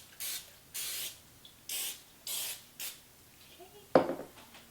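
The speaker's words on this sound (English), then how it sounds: "I like to spray my pan just with a little bit of olive oil cooking spray" Olive oil cooking spray hisses onto a baking pan in five short, even bursts with brief gaps between them, followed by a soft metallic clatter.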